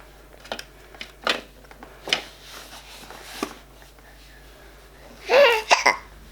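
A five-month-old baby girl hiccups repeatedly, several short soft hiccups spaced roughly a second apart, followed by a louder vocal burst near the end, in a quiet indoor room.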